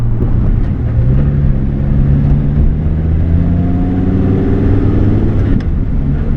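A Dodge Viper engine drones steadily from inside the cabin, its pitch gradually climbing as the car accelerates, loud and continuous.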